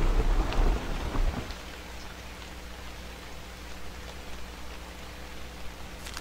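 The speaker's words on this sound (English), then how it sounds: "And now it's raining." A video game storm opens with a loud burst of thunder rumbling over heavy rain, then settles into a steady, quieter downpour hiss that continues on its own.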